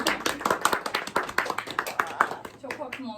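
A small group claps rhythmically right after a birthday song at a family gathering, with dense, close hand claps that thin out toward the end while voices speak over them.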